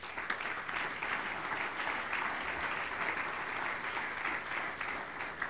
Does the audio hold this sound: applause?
yes